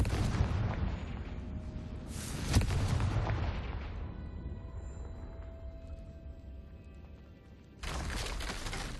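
Confringo fire spell from Hogwarts Legacy on Switch 2, cast inside a tomb: a sharp blast early on fades into a long rumbling decay under game ambience, then a second loud burst near the end, with no talking.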